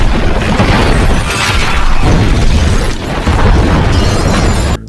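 A loud, sustained explosion from a bomb set off inside a hut in an action film fills the whole stretch, rumbling and crackling with dense debris and blast noise throughout.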